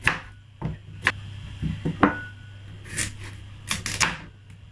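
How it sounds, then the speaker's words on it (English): A kitchen knife chops a washed carrot for cabbage sauce, giving a handful of sharp, close, irregularly spaced knocks against the board with brief quiet gaps between strokes. "Next, I'm going to be chopping the carrot."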